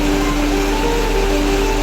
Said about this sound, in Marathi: पावसाने आता मोठ्या प्रमाणात सुरुवात केली